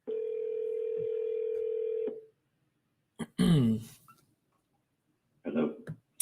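A telephone line gives one long, steady tone for about two seconds before going quiet, followed by a few short bursts of a voice.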